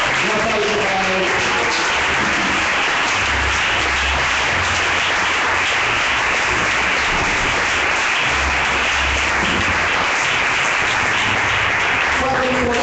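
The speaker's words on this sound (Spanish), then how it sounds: "Un aplauso para él." Church congregation applauding during a service, a long dense stretch of clapping mixed with crowd noise and a low hum, with voices faintly present underneath.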